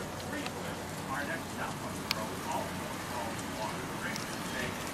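Steady rain falls as an even, unbroken hiss for several seconds, with a faint sharp tick partway through.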